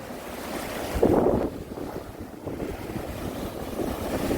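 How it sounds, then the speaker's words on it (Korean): Sea waves surge and break against the rocky shore at Yeonggeumjeong beside Dongmyeong port, a steady wash of surf under gusty wind noise, with one fuller swell cresting early and the roar continuing throughout. "큰 파도가 한번 넘어와 줬으면 좋겠습니다"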